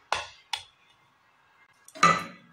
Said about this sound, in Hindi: यहाँ पर डाल दिया एक बड़ा चम्मच घी।